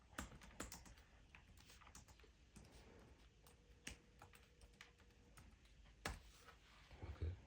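Keys clatter on a computer keyboard in quiet irregular bursts of typing, with scattered sharper taps and pauses between runs.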